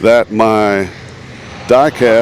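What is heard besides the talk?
No everyday noise stands out behind the speech.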